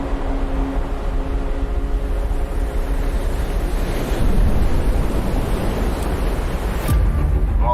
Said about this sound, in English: Oh, look at this set. Pretty solid, man. 2 waves.